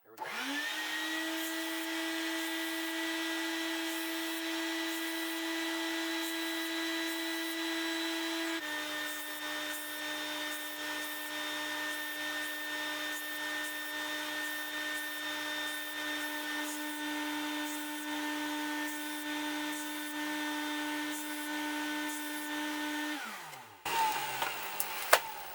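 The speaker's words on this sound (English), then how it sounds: "Every one of these has to be beveled on each end." A small power tool with a high-pitched motor whine bevels the ends of wooden pegs for a Gerstner-style wood tool chest, running steadily and close, shifting pitch once, then spinning down near the end.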